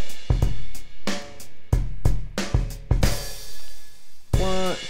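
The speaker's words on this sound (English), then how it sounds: "I've got a little drum track here with a little space at the end of every phrase" A drum track plays alone with punchy kick and snare hits in a steady pattern, leaving a gap at the end of each phrase, with a crash and sustained wash near the end.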